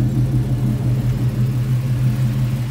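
A Chevy Impala SS, brought back to life after a blown motor, idles steadily with a deep, close, continuous engine rumble and no talk over it.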